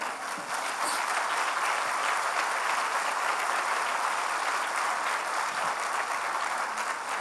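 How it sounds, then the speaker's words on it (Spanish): A church congregation applauds during a sermon, a dense, sustained roar of many hands clapping at a steady level from start to finish, with no speech over it. "Denle un aplauso al Señor."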